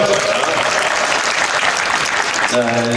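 Audience applause at a women's football festival in Paide, Estonia, steady dense clapping filling the space, with a voice starting to speak near the end.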